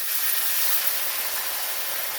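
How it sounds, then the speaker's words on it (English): Jarred marinara sauce poured into a hot pan for chicken spaghetti Parmesan crackles and sizzles in a steady, close, bright hiss that barely changes for the whole stretch. "Listen to that crackling sound."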